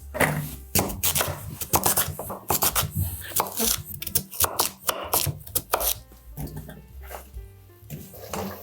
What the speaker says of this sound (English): Now I'm gonna cut them into large chunks